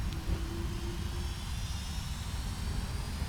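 Boeing 757 jet engines in a flight simulator spooling up for takeoff, a steady loud roar with a brief rising tone near the start, continuous and alone.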